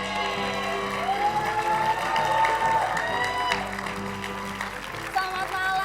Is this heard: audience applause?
yes